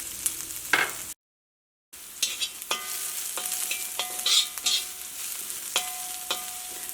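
Finely chopped onion drops into a pan of frying garlic and nuts, a steady close sizzle with scraping stir strokes and brief clinks, after a short gap of silence near the start.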